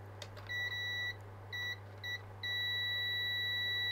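A multimeter in continuity mode, testing a budget Lidl synthesizer, gives several short bright beeps in a row, then one sustained tone, over a low steady hum.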